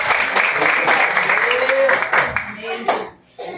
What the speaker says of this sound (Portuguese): Jesus, e as palmas que exaltam o nome do Senhor